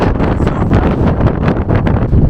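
Strong wind roaring across an exposed volcano summit in Guadeloupe, buffeting the microphone with a loud, continuous, rumbling gust that masks everything else.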